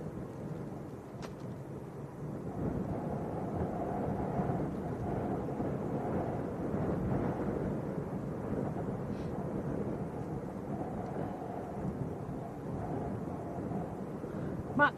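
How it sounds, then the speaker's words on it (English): Strong gale-force wind blowing across Leeds Bradford Airport on a hilltop, a constant low roaring rumble buffeting the microphone for the whole stretch, with no clear talk. "It's straight into his faces, blowing a gale."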